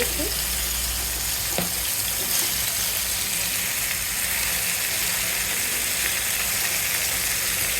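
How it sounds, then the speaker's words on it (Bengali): Chicken body kebab frying in a little hot oil in a frying pan gives a steady, close, even sizzle with soft crackles throughout, with no talking. "ফ্রাই প্যানে তেলটা গরম করে নিয়েছি কম তেলে ভাজবো"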